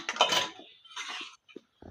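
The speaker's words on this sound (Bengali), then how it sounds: "কড়াইটা নামিয়ে নিচ্ছি" A kadai pan lifted off a stove while cooking chicken dum biryani, heard as a few close metallic scrapes and clanks of metal on metal, followed by short knocks and brief pauses.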